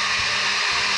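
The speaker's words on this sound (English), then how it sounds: "Let me shut this blender off." A blender whirring steadily while making a fruit smoothie with water added, a loud continuous motor roar with no pauses and no voices over it.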